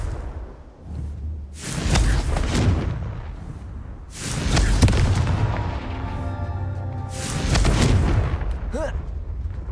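In the video game Hogwarts Legacy, a Confringo blasting spell erupts in loud, booming explosions, three main bursts several seconds apart, each trailing into a crackling rumble, with some voice underneath.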